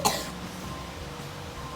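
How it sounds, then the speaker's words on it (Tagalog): A child coughs once, a single short and faint cough at the very start, followed by quiet background noise. "tapos may ubo ka pa"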